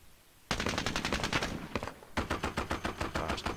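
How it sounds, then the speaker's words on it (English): Heavy machine gun fire in the wargame Squad Battles: Soviet-Afghan War, sudden long rapid bursts of loud, evenly spaced shots, a brief gap, then another steady burst. "Gosh, that heavy machine gun."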